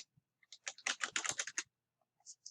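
Keys clatter on a computer keyboard while an approval word is typed into an email reply: a quick, close burst of clicks, then a pause and a few soft final taps.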